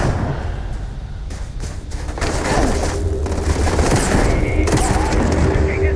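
A Magpulse rifle fires in Starfield, loud rapid bursts of shots cracking in quick succession against pirates, with booming impacts and a dense continuous barrage of gunfire across the whole stretch.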